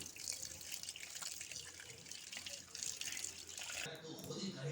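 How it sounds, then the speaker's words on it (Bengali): Tap water running over food being washed in a kitchen sink for a palm-cake recipe, a soft continuous splashing and trickling stream at low level throughout. "এখন ভালো করে ধুয়ে নিব চুনাগুলো ভালো করে ধুবো কষলে কষলে ধুব চুনাটা"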